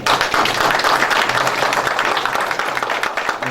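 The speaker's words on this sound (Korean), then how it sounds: "박수 한번 좀 부탁드립니다." Sustained applause from a crowd of Yangpyeong residents at a gathering celebrating the confirmed Seoul–Yangpyeong expressway, a dense steady wash of clapping lasting the whole stretch.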